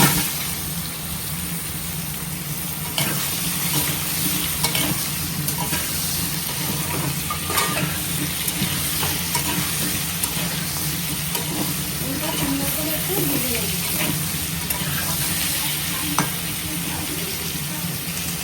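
Chunks of elephant foot yam fry and get stirred in hot oil spiced with dried red chilli and cumin seed, a steady sizzle with occasional scraping and stirring strokes throughout, close and continuous.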